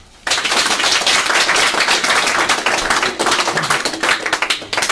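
An audience at a Korean New Year ceremony claps loudly and steadily for several seconds, a dense, sustained applause that starts abruptly.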